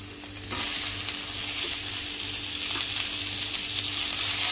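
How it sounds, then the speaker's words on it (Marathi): Onion frying in a pan while cooking matar paneer gives a steady sizzle throughout, with soft stirring scrapes and a louder burst of frying a moment in; no one speaks. "दोन मिनिटं चांगला परतायचा आहे कांदा"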